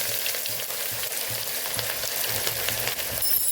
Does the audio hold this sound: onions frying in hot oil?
yes